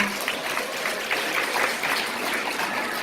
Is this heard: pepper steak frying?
no